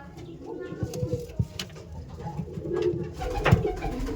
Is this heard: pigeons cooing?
yes